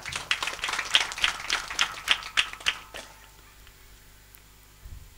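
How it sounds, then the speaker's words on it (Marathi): An audience at a kirtan during a Sant Balumama harinam saptah claps in a short burst of about a dozen sharp claps, then the hands stop and a quiet room hum remains. "वाजवा टाळ्या"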